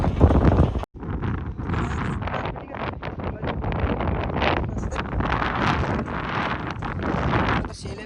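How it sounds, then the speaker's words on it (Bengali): Strong wind buffets a microphone on a building rooftop, loud gusty rumbling that rises and falls throughout, with a voice briefly audible at the start. "সেই লেভেলের হাওয়া দিচ্ছে, আওয়াজ হতে শোনা না যেতেও পারে"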